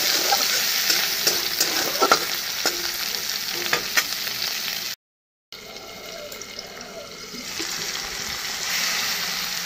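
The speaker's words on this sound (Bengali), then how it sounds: "শুটকিও অল্প ভেজে নিচ্ছি" Dried fish (shutki) frying in a pan alongside potatoes, with a dense sizzle and scraping stir strokes, a short cut of silence midway, then quieter sizzling with faint watery sounds.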